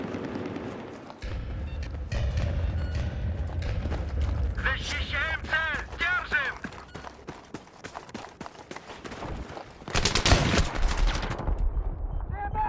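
Gunfire in Battlefield 3 on PS3, including shotgun blasts, with loud, irregular shots and bursts mixed with mechanical clatter and battle noise, with a voice talking over parts of it.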